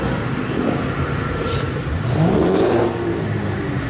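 A boosted 350 V8 car revs at a car meet, its engine note climbing and falling in a brief rising sweep amid steady background rumble and crowd noise, fairly close and loud.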